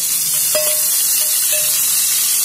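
Garlic and green chilli paste fries in hot oil with a dense, steady sizzle, and a few light scrapes and taps of a stirring spoon sound near and clear over it.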